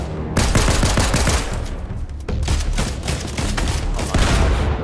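Sustained Fortnite gunfire, loud and close: rapid automatic bursts rattle almost nonstop for several seconds, with a brief dip midway before the firing resumes.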